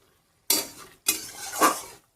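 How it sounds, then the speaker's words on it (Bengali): A spice masala is fried and stirred in a pan as two short bursts of scraping and clinking, the second one longer, with brief silence between them. "বন্ধুরা এখন কষাচ্ছি মশলা"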